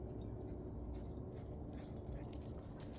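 A pet dog gives soft, faint whimpers over a low, rumbling room background, close by but quiet.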